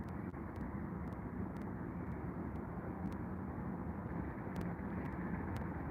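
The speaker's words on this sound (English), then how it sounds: "Here comes our next takeoff here on runway 27 right at London Heathrow" A Qantas Airbus A380 takes off from runway 27 right at London Heathrow, heard as a steady, broad jet engine roar at a moderate distance with no talk over it.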